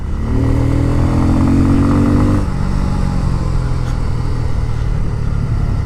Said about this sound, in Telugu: ఎగ్జాస్ట్ నోట్ అనేది లౌడ్ ఉంది, అంటే బయటికి చాలా ఆడిబుల్ అవుతుంది